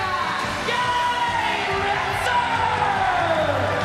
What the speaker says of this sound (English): People are standing up, they're cheering.